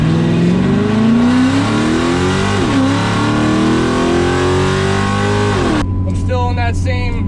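Drag race car launching on a pass at a drag strip, a loud engine revving up through rising pitch with a shift-like dip, then cutting off near the end, heard up close and dominating.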